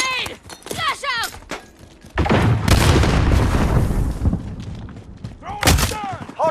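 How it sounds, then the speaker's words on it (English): A flashbang grenade goes off during online Hardpoint play in Call of Duty Modern Warfare, a loud, sustained blast and ringing burst that follows clipped in-game voice callouts, with more shouted callouts near the end. "Throwing grenade! Flash out!"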